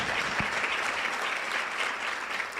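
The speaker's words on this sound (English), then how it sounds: "Can we give a round of applause for ourselves?" An audience at a Polokwane breakfast event welcoming Miss South Africa 2022 claps steadily. The applause is dense and even and fills the whole stretch, with no voices over it.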